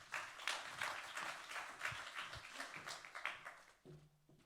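A conference audience applauding a departmental vice-president at an event on Aiguillon Bay, a faint, distant patter of many hands that thins and fades near the end.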